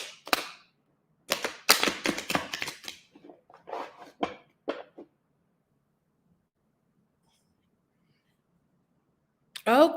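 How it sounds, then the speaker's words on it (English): Deck of playing cards being shuffled, several quick papery riffles and snaps in short bursts over the first few seconds, then silence, with a brief burst at the very end. "while I shuffle the cards"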